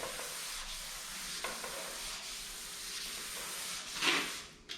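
Wet sanding with 400 grit paper on a car body panel makes a soft, continuous rubbing hiss with slight swells, close and quiet, ending in a brief louder swish.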